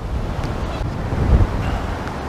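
Wind gusts across a lakeside fishing spot during pole fishing, a steady broadband rush with low buffeting rumble on the microphone that swells briefly mid-way, no voices.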